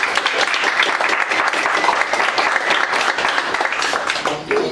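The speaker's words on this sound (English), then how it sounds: "we'd like to give a warm round of applause for Dr. Paul Chamberlain." Warm round of applause from an evening lecture audience welcoming a speaker, dense, even clapping throughout that starts to fade at the end.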